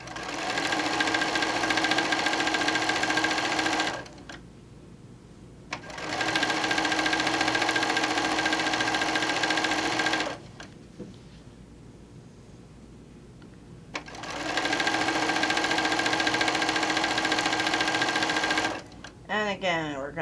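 Sewing machine stitching quilt pieces together, running loud and close in three long bursts with brief pauses between them.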